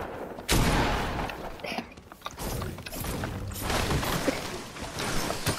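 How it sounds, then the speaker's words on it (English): A Fortnite squad match erupts with a sudden loud grenade blast, then a dense, rumbling clatter of further explosions and gunfire that continues without a break. "Guys, there's grenades!"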